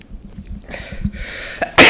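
A single sharp sneeze bursts out at the end, loud and close, after a stretch of quiet murmuring and small sounds in a podcast room.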